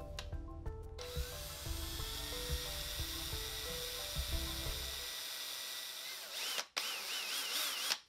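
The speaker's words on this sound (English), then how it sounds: "go ahead and line up the drill and go for it." A power drill whirs steadily for several seconds as it drills into a 3D print with a dull bit, its pitch stepping down under load before stopping, followed by a brief second burst of spinning.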